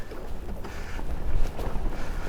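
Wind gusting across open water at Draycote reservoir, a steady low rumbling buffet with surging gusts and light water wash, close to the microphone throughout with no voices.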